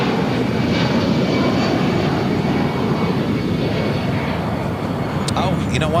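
A jet airliner taking off at LAX gives a steady, loud engine roar that holds for the whole stretch, with people talking faintly nearby.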